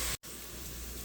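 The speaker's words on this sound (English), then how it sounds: "So you can hear it right now probably, and you can see that it's frying just fine" Vegetables for cabbage soup sauté in a hot pan, giving a steady, soft sizzling hiss. One short break of silence interrupts it near the start.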